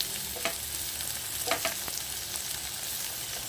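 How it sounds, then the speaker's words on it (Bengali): Vegetables, including peas, fry in a pan for veg fried rice, giving a steady close sizzle broken by a few sharper spatters and stirring scrapes, with no talking. "সবজিগুলো প্রায় ভাজা ভাজা হয়ে এসছে"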